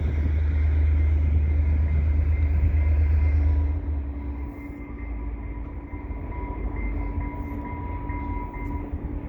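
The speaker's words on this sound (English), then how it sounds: "they are moving these locomotives" Railway locomotives roll along the track in a rail yard with a heavy low rumble that fades after a few seconds, leaving a quieter steady drone with faint metallic ringing tones.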